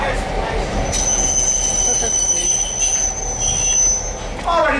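Train wheels squeal on the rails during a short DL&W railroad ride near a rail yard, a long high-pitched metallic whine sustained over loud, continuous rumbling rail noise, with a brief extra squeal near the end.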